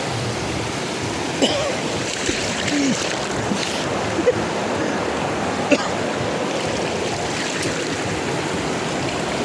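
A waterfall at a forest resort in Nagcarlan, Laguna roars steadily, with faint voices and occasional small clicks over the constant wash.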